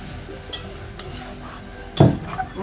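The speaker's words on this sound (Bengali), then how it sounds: "চিকেনটাকে স্টিম করার পরে যে জলটা ছিল এই জলটাকে একটু নাড়িয়ে চেড়ে নিচ্ছি" A utensil stirs the cloudy leftover water from steaming chicken in a pot, giving soft swishing and a few light metal clinks, with one louder scrape and slosh near the end.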